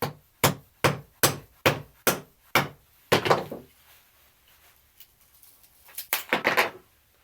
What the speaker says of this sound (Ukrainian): Спробуємо молотком.